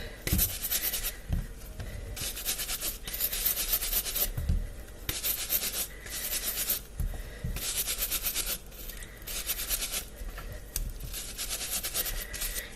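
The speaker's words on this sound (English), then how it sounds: "just give these a little bit of a scrub" Yellow potatoes are scrubbed by hand in rhythmic bursts of coarse rubbing, each stroke a second or so long with short pauses between, close and clear with no talk.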